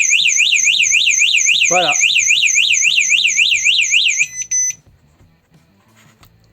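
Panamalar 110 dB door opening sensor alarm sounding a loud, piercing warbling siren up close for about four seconds before cutting off, with a person speaking briefly over it and afterward.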